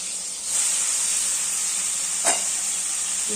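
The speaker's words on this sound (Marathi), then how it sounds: "आपली फोडणी तयार होत आली तर आपण हा पास्ता पण टाकून घेऊया" Pasta is tipped into a sizzling tempering in a pan. A loud, steady frying hiss fills the whole stretch, broken by one brief clatter near the end.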